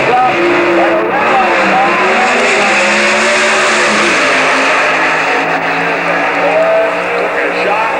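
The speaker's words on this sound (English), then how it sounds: "brings it in, the RPM's up." A drag racing car at the 1988 NHRA Winternationals in Pomona revs hard and launches down the strip, a loud, continuous engine roar filling the whole clip with a sustained, slightly wavering pitch.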